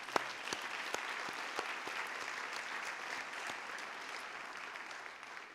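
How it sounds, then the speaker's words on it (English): An audience at a senior academic and athletic recognition ceremony applauds steadily, a dense even clapping that fills the room at moderate distance and fades slightly toward the end. "please join me in applause for these outstanding young men and women again."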